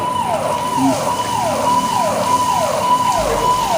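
A fire brigade vehicle siren at a Prayagraj fire station wails loud and close in a repeating falling sweep, about six cycles, with steady engine rumble beneath and no talk.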